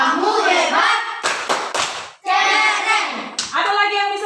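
Classroom of children doing a rhythmic 'tepuk hebat' clap, a few sharp bursts of group clapping between stretches of a voice speaking close by.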